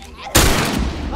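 A single sharp gunshot from The Last of Us Remastered video game, loud and sudden after a brief quiet moment, with a short ringing tail.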